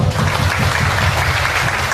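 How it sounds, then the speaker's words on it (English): Dense, steady applause from a large crowd at a fashion show gala in Nagaland, loud and continuous throughout. "can we give a big round of applause for Miss Azungla Imsong?"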